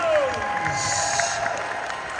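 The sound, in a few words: audience applause for Hocus Pocus panel guests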